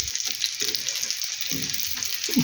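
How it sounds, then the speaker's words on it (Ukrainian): Mushrooms in egg batter sizzle steadily in hot oil nearby, a constant crackling hiss broken by a few soft scrapes and clinks of a utensil in the pan. "Їх не треба довго смажити, тільки щоб кляр обсмажився гарнесенько"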